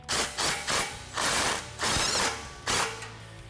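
Hand ratchet snugging exhaust clamp nuts on a 2017 Ford F-150 Raptor cat-back install, five bursts of rapid close clicking separated by short pauses, no talk.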